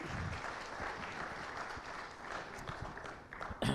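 Audience at a political event in Haryana applauding loudly, dense clapping from a large crowd that fades slightly and then swells again at the end.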